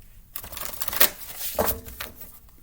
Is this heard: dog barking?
no